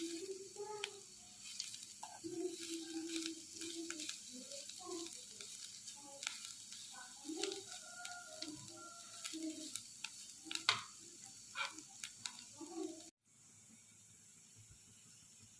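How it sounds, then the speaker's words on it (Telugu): Grated carrot fries in a pan for a carrot rava laddu, giving a steady sizzle with scattered crackles and pops, close and moderately loud. It stops abruptly near the end, leaving a faint, quieter hiss. "ఎక్కడ కూడా మాడిపోకుండా క్యారెట్ తురిమి వేయించుకుందాం"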